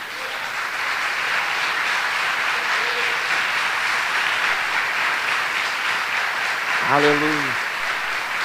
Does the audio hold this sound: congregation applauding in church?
yes